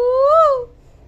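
A single drawn-out voiced hoot rises and falls in pitch, a voice imitating a train whistle, then fades into quiet room noise.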